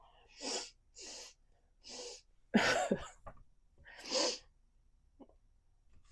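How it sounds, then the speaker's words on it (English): A series of sneezes and sniffly bursts, several short breathy blasts then a louder sneeze, close and clear with quiet pauses between. "Okay, I think I'm going to sneeze."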